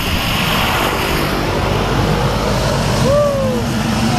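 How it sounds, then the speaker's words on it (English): A propeller airplane drones loudly and steadily as it approaches a skydiving drop zone, with wind noise throughout and the engine tone rising near the end. "Here comes the plane."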